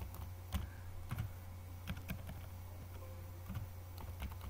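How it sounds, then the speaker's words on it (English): Keys clatter as a Gmail password is typed on a computer keyboard: soft, scattered clicks in short irregular bursts over a low steady hum, with no talk. "let me type my Gmail password, you see what will happen."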